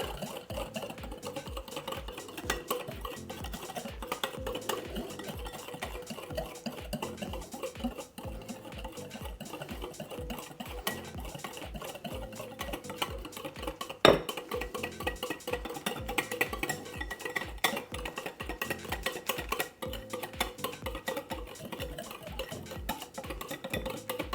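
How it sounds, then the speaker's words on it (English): A no-bake banana cheesecake mixture is whisked by hand in a bowl, with fast, steady rhythmic tapping and scraping of the whisk that goes on without pause at close range, with no talking. "I'm just going to use a whisk until it thickens."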